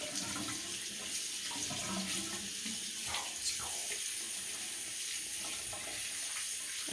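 Tap water running into a sink while something is rinsed out, a steady hissing splash with small shifts and gurgles as the item is moved under the stream, moderately quiet and with no talking.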